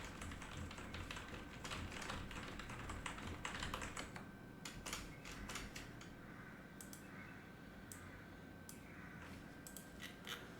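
Rapid typing on a computer keyboard, close and quiet, with dense bursts of key clicks that thin into scattered taps and pauses.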